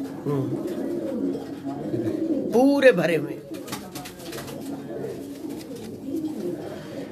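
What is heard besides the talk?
feather-footed breeder pigeons cooing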